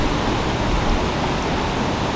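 Water rushes through an old mill channel in a steady, dense hiss, close and continuous without any break.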